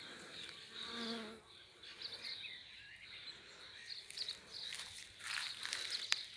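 Steady buzzing of bees hovering close by over physalis gone to seed in a vegetable garden, a soft continuous drone with a few louder passes, no talking.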